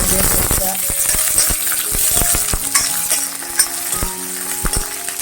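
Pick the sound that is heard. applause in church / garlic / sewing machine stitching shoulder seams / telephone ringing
garlic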